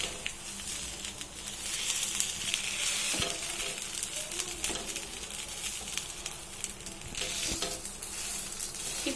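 Adai batter sizzles and crackles steadily on a hot pan after being flipped, a dense close frying hiss with a few soft scraping clicks and no speech.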